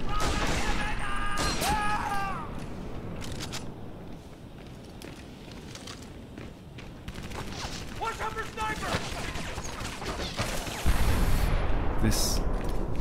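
Gunfire in the World War II shooter game Medal of Honor: Vanguard, loud bursts of rifle and automatic fire with scattered single shots and booms over a dense battle din, a player's voice speaking now and then.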